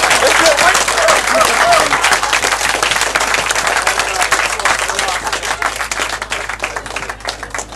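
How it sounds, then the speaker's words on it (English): Wedding guests applaud a best man's speech in a dense, loud burst of clapping that holds steady and thins slightly toward the end, with some murmuring voices mixed in. "Oh, a big round of applause there."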